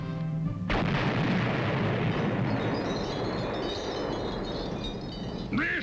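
Grenade explosion sound effect from a radio comedy: a sudden loud blast followed by a long rumbling roar and debris-like crackle that slowly fades, with a brief voice at the very end.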